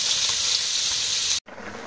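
Fish frying in a pan in an open-air village setting, a loud steady hiss close by that cuts out abruptly for a moment near the end, then resumes more softly.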